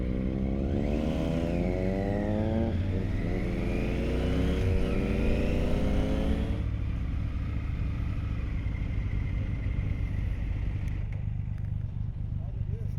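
A 2022 Triumph Tiger 900 engine revs on a demo ride, rising and falling in pitch through the first half, then settling into a steady, close drone with wind noise for the rest.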